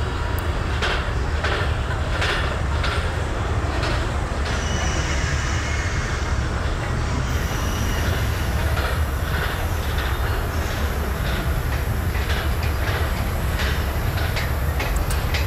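The Vidarbha Express rolls along in Microsoft Train Simulator, a loud, steady rumble of rail travel with rhythmic wheel clacks over joints and a hissing high whine joining partway through.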